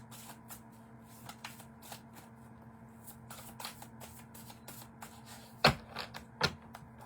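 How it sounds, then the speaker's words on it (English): Tarot cards shuffled by hand during a live reading, with soft riffling and tapping through the clip and two sharper, louder shuffle bursts near the end, no voices. "shuffle up the cards"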